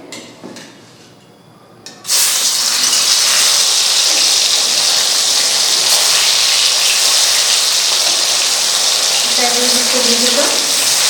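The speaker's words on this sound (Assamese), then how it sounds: "এতিয়া মাছটো দি দিম কেৰাহীত" A fish drops into hot oil in a wok and a loud, hissing sizzle erupts after a quiet moment, then stays intense and continuous to the end.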